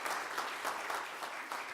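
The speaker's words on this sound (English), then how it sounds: "We'll give her a round of applause, Sarah Bramer." Audience applause at a church talent show, a brief dense burst of many hands clapping, steady and fairly distant, with no talking.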